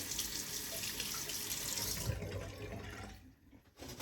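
Water runs steadily from a tap for rinsing, a loud continuous splashing rush that thins out and nearly stops toward the end, with no voices.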